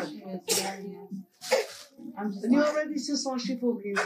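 One sharp sneeze cuts through a conversation, surrounded by several people talking close by.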